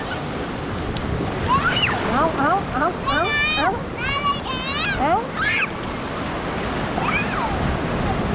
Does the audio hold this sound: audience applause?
no